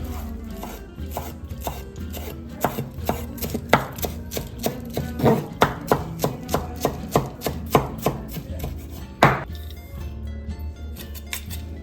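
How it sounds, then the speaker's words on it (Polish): A knife chops cilantro on a cutting board in rapid, steady strokes, a run of sharp close taps speeding up toward the end and finishing with one heavier chop, no voices. "Poszatkuję tą kolendrę."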